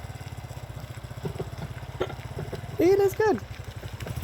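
A Kawasaki Eliminator 125 motorcycle, 125cc, ridden by a learner, its small engine putting out a steady low putter at moderate distance while someone speaks briefly over it.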